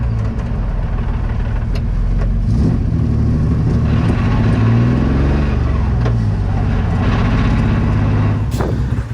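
A Nissan S13 fitted with a VQ engine and a new exhaust drives along, its deep, loud exhaust drone steady throughout, rising and falling slightly with throttle, heard from inside the car.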